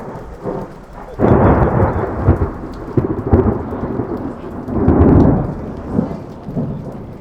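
A thunderstorm at a campsite booms with rolling thunder over heavy rain drumming on a caravan roof, the rumbles swelling and fading in waves, close and loud.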